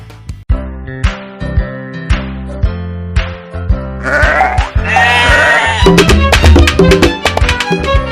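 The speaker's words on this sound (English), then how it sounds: "I am a sheep in a flock is where you'll find me." Cartoon-style sheep bleat repeatedly in a farm setting, loud and close, with short bleats spaced over a bouncy backing tune that grows busier toward the end.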